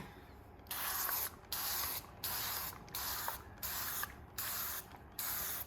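Seven short, evenly spaced bursts of cooking oil spray onto pastry sheets hiss up close, each lasting under a second with brief pauses between.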